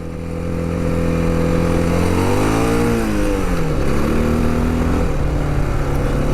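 A 2023 Honda XR650L with a lowered suspension rides gravel roads off the pavement, its engine droning loud and close, pitch sweeping up and down as the rider shifts and accelerates.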